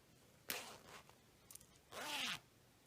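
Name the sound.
zipper of a crocheted bag being handled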